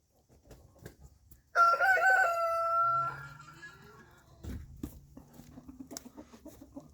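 A farm rooster lets out one loud, close cock-a-doodle-doo, followed by quieter scattered clucks and soft fowl noises in an otherwise quiet barnyard.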